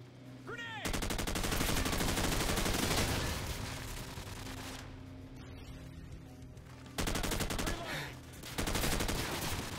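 Rapid handgun fire rattles through a shooter video game in dense bursts, with short gaps between volleys and faint background sounds from the game.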